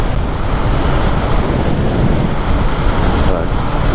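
Steady, loud wind buffeting at highway speed while riding a Honda CBR650R sport motorcycle, a continuous broadband roar with no pauses and no engine detail coming through.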